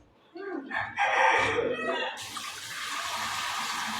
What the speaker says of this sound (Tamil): இப்போ திரும்பி சிக்கனை நல்லா அலசுகிறோம்.